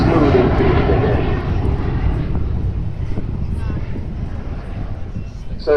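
An Avro Vulcan XH558 bomber at the 2014 Farnborough Airshow passes with a loud jet-engine roar that gradually fades into distant rumble, while a voice talks over it.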